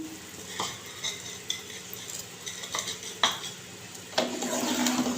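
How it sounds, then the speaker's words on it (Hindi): Raisins are tipped into sugar syrup cooking in a pan for barfi, giving soft scattered clinks and stirring scrapes over a low steady simmer with a light sizzle, close and fairly loud. "यहाँ पे मैंने आधा कप के बराबर ये किशमिश ले ली है, ये भी मैं शीरे के अंदर ही डाल दूँगी।"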